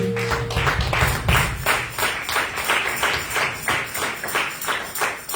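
A church congregation claps in a steady rhythmic beat, moderately loud and even throughout, with faint voices of acclamation underneath.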